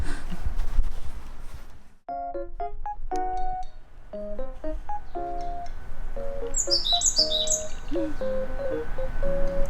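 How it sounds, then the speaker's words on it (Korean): A loud songbird sings outdoors on a walk with a cat, repeating clear whistled phrases at a steady pace, with a burst of high, rapid trills near the end. "참큰 새소리네."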